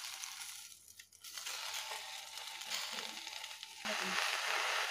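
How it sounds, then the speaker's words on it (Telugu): Gongura leaves cook in a pan on a stove, simmering and sizzling in their own released water with a faint, steady hiss and soft crackle that grows slightly louder toward the end. "గోంగూరలో ఉన్న వాటర్ తోటి అంతా బాయిల్ అయిపోతుందండి."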